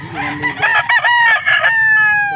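A bullstag rooster crows loudly and close by in Pampanga, Philippines, one long drawn-out cock-a-doodle-doo with a trailing final note.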